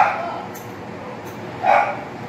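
A dog gives a couple of short, sharp barks close by over a steady hiss of background noise.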